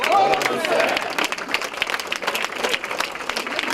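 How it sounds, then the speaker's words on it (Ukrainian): Dense applause from a crowd, with voices mixed in, continuing steadily throughout. "Хлопців зустрічали оплесками"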